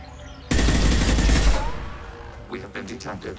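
Sustained burst of rapid gunfire in Mass Effect 2 erupts loudly after a brief quiet, rattling for about a second before fading into scattered shots and game sounds.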